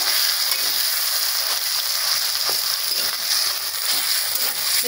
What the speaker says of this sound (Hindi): जो आलू में खस करके रखी थी इसको मैं डाल देती हूँ। ये थोड़ी थोड़ी करके डालूंगी, अब मैं इसको चलाऊंगी।